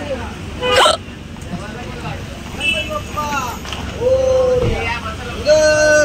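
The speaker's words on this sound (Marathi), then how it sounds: "मला उचकी लागली." A sharp hiccup jumps out near the start, sudden and loud, amid busy chatter and street bustle at a stall selling Ganesh idols, with customers talking nearby.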